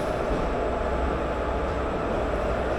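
The Madurai-Guruvayur Express, hauled by an Erode-shed diesel locomotive numbered 22925, rumbles along as a steady low roar of rolling carriages heard from inside the train.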